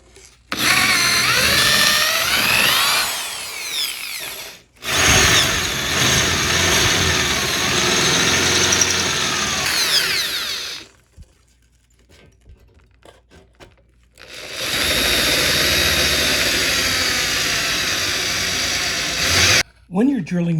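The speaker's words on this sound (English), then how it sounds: "Let's go ahead and drill all our" A power drill bores 5/16 inch holes in a camper frame, whining loudly in long sustained runs that stop briefly and then resume, with a quieter stretch between bursts.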